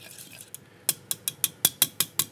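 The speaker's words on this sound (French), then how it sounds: "Donc ça va bien effriter, bien délayer, bien mélanger notre levure." A small spoon stirs crumbled yeast in a bowl, making a quick series of sharp, close clinks and taps at a steady rhythm, a few faint ones first, then louder, evenly spaced strikes.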